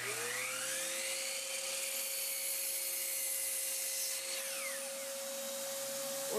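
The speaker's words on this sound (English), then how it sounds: "I'm gonna go ahead and cut out some more 9-inch pieces" Power saw cutting 9-inch wood pieces in a workshop, a sustained high whine with a steady pitch, loud and continuous, easing off near the end.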